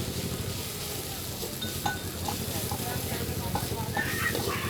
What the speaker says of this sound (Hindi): लहसुन अदरक और मिर्ची भी थोड़ा भून जाएगा।